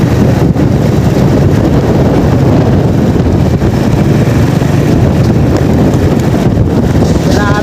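Strong wind blowing smoke and dust at the NAIA Terminal 3 off-ramp roars and buffets the microphone loudly and continuously, with a rushing rumble throughout.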